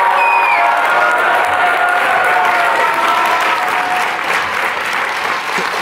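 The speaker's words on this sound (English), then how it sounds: "Let's applaud." Audience at a Columbia University graduation ceremony applauds steadily for several seconds, a dense, loud, continuous clapping that eases slightly toward the end.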